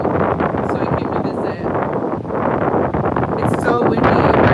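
Strong gusty wind at a beachfront during hurricane season roars and buffets the microphone continuously, loud and close throughout, with muffled talk partly buried beneath it.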